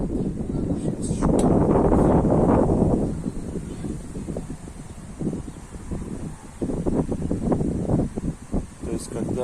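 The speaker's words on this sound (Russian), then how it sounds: "порыв пошел" A wind gust of about 6 m/s blowing across a homemade solar tracker outdoors, a loud rushing buffet that swells early then eases into lighter gusting, with someone speaking over it.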